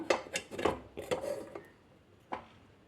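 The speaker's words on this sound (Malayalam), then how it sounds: "ഇനി നമുക്ക് കേക്ക് മോൾഡ് പുറത്തേക്ക് എടുക്കാം" A cake mould for butter cake being lifted out of a pot on the stove, with several close metallic clinks and knocks in quick succession, then a final clack after a short pause.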